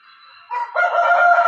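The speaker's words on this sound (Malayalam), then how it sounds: "വേറെ ഏതോ കോഴി അകത്തുനിന്ന് കരയുന്നുണ്ട്" Rooster crowing from inside a village house, a single loud, close crow that begins softly and swells into a sustained call.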